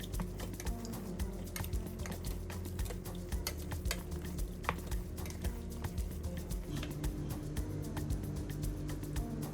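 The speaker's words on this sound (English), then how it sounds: "we're gonna stir it up, making sure everything is combined well so it becomes sort of this like warm rice, warm grain sort of bowl" A spoon stirs a warm mixture of rice and grains in a bowl, making irregular soft clicks and scrapes over a low background hum, close and fairly quiet.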